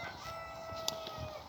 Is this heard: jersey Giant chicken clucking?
yes